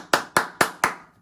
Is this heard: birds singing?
no